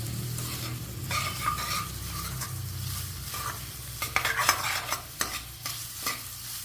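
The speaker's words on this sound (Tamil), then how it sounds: "பாருங்கள் தக்காளி நல்லா வதங்கிட்டு" Tomatoes with a little salt sautéing in a pan for carrot paneer biryani, a steady close sizzle with a spoon stirring and scraping, sharper clatters toward the end.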